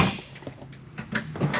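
The bottom drawer of a diagnostic tool cart slides open with a short metallic rumble and clatter, close by, with no one speaking.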